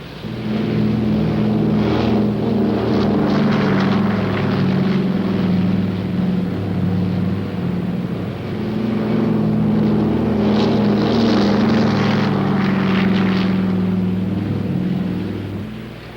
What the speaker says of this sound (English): And the planes are launched to support the Marines at the front.